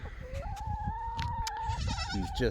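A young goat bleats in a long, wavering call, then gives a shorter second bleat, heard fairly close in a farm setting with faint background noise.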